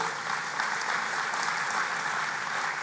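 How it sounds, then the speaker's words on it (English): Applause at the RAA Celebration of Football 2021 awards night, a dense, even clapping from a large audience that holds steady throughout with no voices over it. "a round of applause for that"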